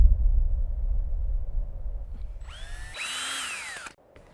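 A cordless drill spins up with a rising whine that holds at a high, steady pitch for about a second and then cuts off, loud and close, with no talk.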